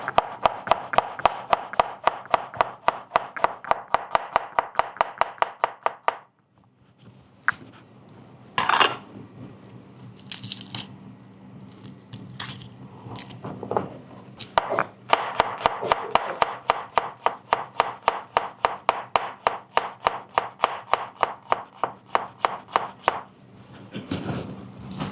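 Sharp, rapid knife chops on a cutting board as shallots are sliced in half, a steady run of crisp close taps that pauses briefly midway with a few clatters before the quick chopping resumes.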